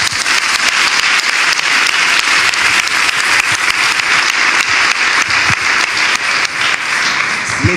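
A church audience claps and applauds during a pastor's question-and-answer session, a dense, loud, steady ovation of many hands that fills the whole stretch without pause.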